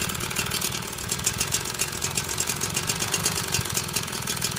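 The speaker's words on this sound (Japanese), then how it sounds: "エンジンアイドリングがちょっと低いかな、" A steady, low engine idle rumbles continuously, idling slightly low as if close to stalling, even and unbroken, with a faint rhythmic throb and no voices.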